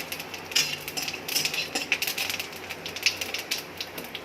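Cumin seeds, added after dried red chillies, tempering in hot oil for a fish and potato curry, crackling and popping in quick, irregular bursts, close and fairly loud, with no talk.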